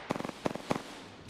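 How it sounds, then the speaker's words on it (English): A grenade goes off in Apex Legends as a fast series of crackling pops, with three clustered bursts that sound like firecrackers. Each burst is fairly close and moderately loud, with no speech. "grenade!"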